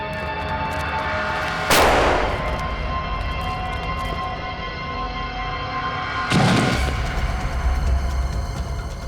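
Two loud, sharp blasts from an explosion set off in a crime drama scene, the first near two seconds and the second a few seconds later, each followed by a rumbling decay over a steady background hum.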